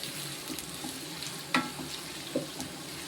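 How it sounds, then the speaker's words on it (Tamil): Sliced raw sour mango sautéing in a pan gives off a faint, low sizzle, broken by a couple of brief taps from a utensil. "இப்போ கொஞ்சம் வதக்கிக்கிடுவோம்"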